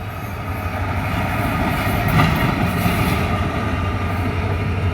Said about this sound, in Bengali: ঢাকা থেকে কক্সবাজারের তৃতীয় ট্রেন আসছে